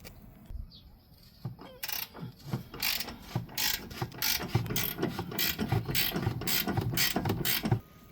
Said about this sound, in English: So now I'm going to remove this one down here. That's with a 17mm socket.